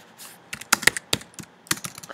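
Scattered keystrokes on a computer keyboard, a handful of sharp clicks coming in short uneven bursts, fairly close and alone with no voices.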